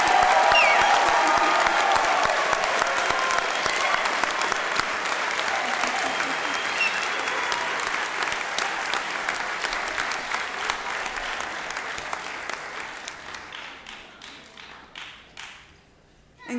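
Sustained applause from a crowd honoring graduating cadets of the 18th Company at a spring academy graduation ceremony, dense and steady clapping that gradually thins and fades near the end, with a few scattered claps lingering.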